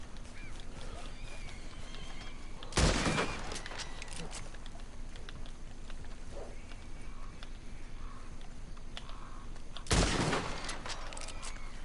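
Gunfire in the video game Red Dead Redemption 2: two sharp, loud shots several seconds apart over a quiet background of faint ambient game sounds.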